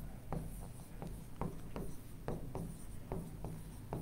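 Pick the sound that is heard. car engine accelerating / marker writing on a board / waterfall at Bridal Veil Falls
marker writing on a board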